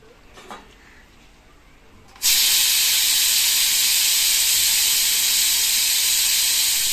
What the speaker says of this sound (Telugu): ఇప్పుడు ఆవిరి బయట కుదిలేద్దాం